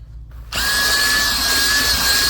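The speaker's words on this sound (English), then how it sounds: "See, I'm kicking it up and out right now. So the drill brush is going in this direction." A drill-powered brush spinning against car interior carpet starts abruptly after a brief quiet moment, then runs as a steady, loud, high-pitched whir with an even motor tone until the end.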